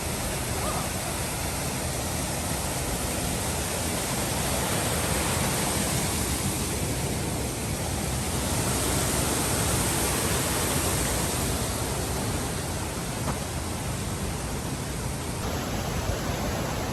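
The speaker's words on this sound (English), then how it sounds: "So it's the Haw River right here." The Haw River flowing, a constant broadband rush of moving water, loud and steady throughout with no talking.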